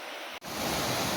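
A forest waterfall and stream at Devkund in Mayurbhanj, Odisha, give a dense, steady rush of falling water that fills the clip after a brief dip at the start.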